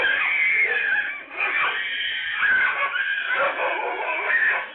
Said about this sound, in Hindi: इस दौरान बच्ची चीखती रही जबकि आवारा कुत्ते उसे नोचते रहे